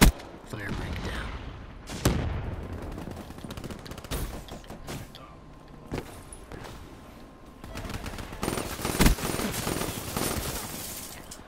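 Rapid automatic gunfire in the multiplayer shooter Black Ops III, with repeated sharp shots and bursts throughout and a dense flurry near the end over game ambience, with a voice speaking.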